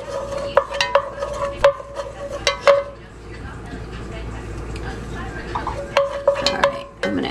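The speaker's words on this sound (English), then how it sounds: "melt this butter and saute these onions up" Onions sauté in melted butter for collard greens, a low sizzle under repeated metal spoon clanks and scrapes against the pan, with a pause in the stirring midway.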